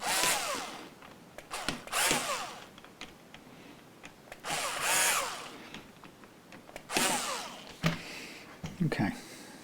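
A power drill tightens parts on a Telecaster-style guitar during a refret and setup, giving several short bursts of whirring and ratcheting close up with quieter pauses between them.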